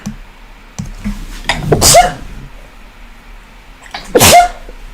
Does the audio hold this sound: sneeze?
yes